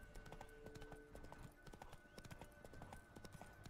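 Roach, Geralt's horse in The Witcher 3, trots along with a quick, steady clip-clop of hooves, close and continuous, alongside a faint whinny.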